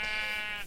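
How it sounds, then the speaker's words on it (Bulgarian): A single sheep bleat from the Minecraft video game, a short, clear, wavering tone lasting under a second, heard alone. "Трябва да бия овце."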